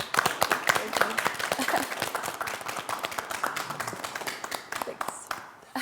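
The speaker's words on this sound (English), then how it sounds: "let's give Sandy a big round of applause" A room full of people claps for someone being welcomed into the family, a lively round of distinct, close hand claps that stays fairly even before thinning out near the end.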